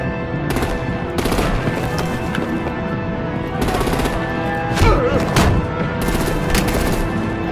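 Heavy gunfire erupts in the Batman: The Enemy Within game, loud rapid bursts of automatic fire coming in several separate volleys with brief gaps between them.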